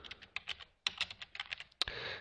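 Close, crisp keystrokes on a computer keyboard come in quick irregular bursts while a form's name fields are filled in, with a few louder key strikes and no talking.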